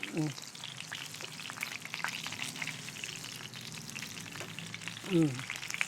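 Tortang dilis, an anchovy omelette, fries in a pan just after being flipped, giving a steady soft crackling sizzle with brief clatters of utensil at the start and near the end, and faint speech in the background.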